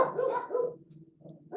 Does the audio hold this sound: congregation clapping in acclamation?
no